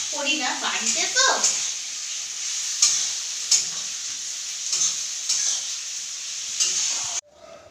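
Onions frying into birista for Kolkata-style chicken dum biryani, a continuous bright sizzle with faint stirring scrapes and brief clicks, cutting off abruptly at the end.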